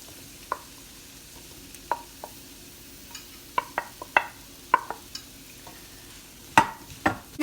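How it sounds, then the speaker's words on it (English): Peppers tumble into a frying pan with onions, ginger, garlic and chili, followed by scattered clinks and scrapes of stirring over a faint sizzle, close and fairly quiet. "Now you're going to want to add all your peppers."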